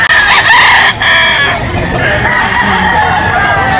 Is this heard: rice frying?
no